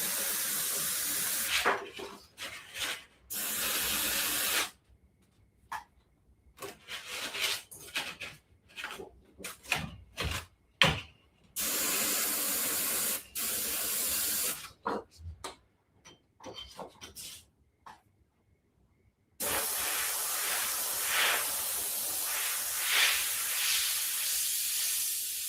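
An airbrush sprays paint through a splatter stencil on zombie artwork, giving close, repeated bursts of airy hiss of varying length. Silent gaps separate the bursts, and a longer steady spray comes at the end.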